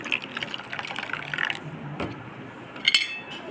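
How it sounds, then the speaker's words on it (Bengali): About a cup of water pours into a metal pot with a splashing, filling sound, followed by a few light clinks of utensils against cookware. "এই সময় আমি অ্যাড করবো এক কাপের মতো পানি"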